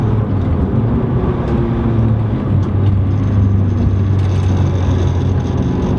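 Renault Clio 182 turbo track car driven hard on a circuit, its engine a steady loud droning roar heard from inside the cabin, with continuous broadband road and wind noise throughout.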